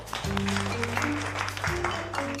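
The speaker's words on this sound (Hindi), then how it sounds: "सभी लोग नैंसी के लिए तालियां बजाएंगे।" Applause in a classroom scene from a Korean drama with Hindi dubbing, a steady wash of clapping lasting a couple of seconds over sustained low musical tones.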